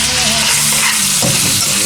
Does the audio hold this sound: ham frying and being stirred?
yes